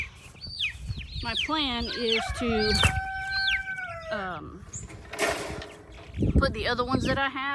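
Backyard chickens, roosters and hens, clucking and squawking at close range with wing flapping, while a person talks over them.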